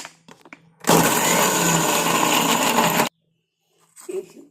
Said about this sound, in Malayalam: നമുക്കിത് അരച്ചെടുക്കാം.